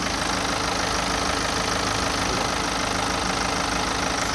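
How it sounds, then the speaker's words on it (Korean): A BMW 520d xDrive (G30) diesel car engine idling steadily and smoothly, a constant low rumble with an even hum, close up, no voices. "자 바로 엔진음 들려드릴게요"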